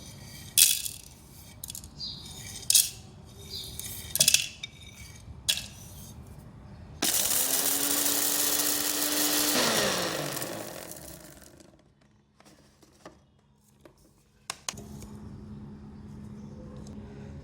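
An electric spice grinder whirs loudly for a few seconds while pulverizing small green cardamom pods and cloves into a korma masala, its motor note climbing as it spins up and then winding down, with faint kitchen clatter before and after.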